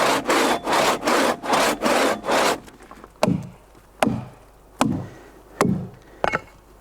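Two-man crosscut saw cutting through a wooden log outdoors, a run of loud rhythmic rasping strokes followed by slower, separate scraping pulls with pauses between them.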